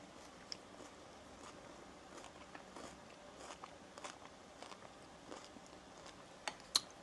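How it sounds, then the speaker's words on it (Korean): Crunchy food, a green tea kadaif cake, is bitten and chewed up close, with faint crisp crackles and soft crunches repeating irregularly against a quiet room background. "완전 크런키 크런키해"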